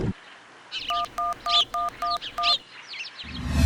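Cartoon telephone being dialed: six evenly spaced electronic dialing beeps in a quick steady rhythm, clear and close, with faint chirpy background sound and a rise of noise at the end.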